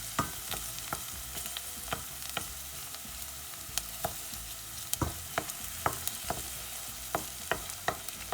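A small onion sautéing in about a tablespoon of sunflower oil for a rice pilaf with vermicelli, giving a soft, steady sizzle with regular scraping stir clicks from a utensil against the pan, close and fairly quiet, with no talking.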